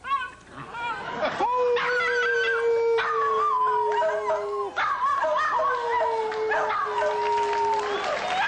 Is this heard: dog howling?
yes